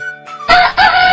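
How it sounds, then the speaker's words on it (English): A rooster's crow breaks in loud and close, rough and broken into two bursts, after a short tail of music. No talk is heard. "ayam"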